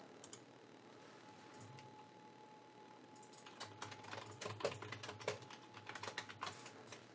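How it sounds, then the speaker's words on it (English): Typing on a computer keyboard while entering sample text into Silhouette Studio; quiet, steady key clicks at first that grow busier and louder toward the end, with no talking. "Type some sample font."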